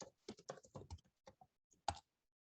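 A default password is typed on a computer keyboard in a quiet room, with a quick run of close, light key clicks, a short pause, and then one final firmer keystroke.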